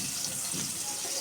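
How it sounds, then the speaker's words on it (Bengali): Chopped onion frying with cardamom, cinnamon, bay leaf and dried red chilli in white cooking oil, giving a steady, close hiss and sizzle without pause. "ভালো করে মশলাগুলোকে ভেজে নিতে হবে। পেঁয়াজটাকেও হালকা ভেজে নিব।"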